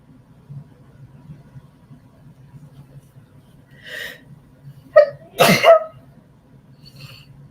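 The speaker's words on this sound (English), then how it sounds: "I have to sneeze." A single person sneezes loudly and close, preceded by a short sharp intake and a small hitch, over a faint low background hum.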